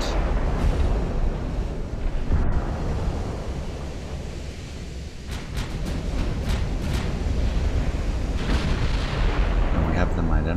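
Heavy naval 8-inch gunfire with bursts of flame rolls across the sea in Ultimate Admiral: Dreadnoughts, booming over a constant low rumble of waves and engines for the whole span, with a few sharper cracks and a voice speaking over it.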